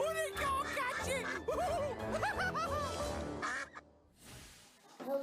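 Cartoon-style duck quacks from a children's train story sound loudly and repeatedly in quick, bouncy bursts, mixed with chuckling and background voices before fading near the end.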